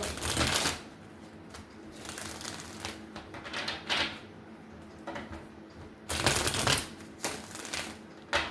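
Tarot cards riffle and flutter in several quick shuffling bursts, close and crisp, separated by short quieter pauses.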